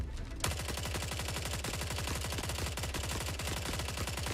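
Sustained automatic fire from a P90 in the Forever Winter shooter game, a rapid unbroken stream of loud close shots lasting about four seconds.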